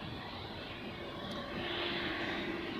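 Aircraft engines at Zurich Airport give a steady distant roar and whine that swells slightly partway through, heard without talk.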